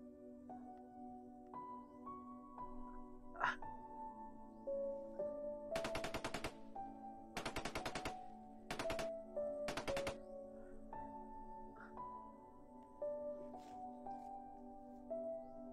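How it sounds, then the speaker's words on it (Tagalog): Video game gunfire rattles out in several rapid automatic bursts over a sustained musical drone and game tones, the shots sharp and fairly loud in the mix. "may putukan doon tol"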